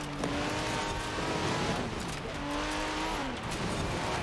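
A fast car tears through the Gruppe B weekly Forzathon challenge in Forza Horizon 4, its engine roaring loud and close without a break, the pitch rising and dipping as it shifts gears through the run.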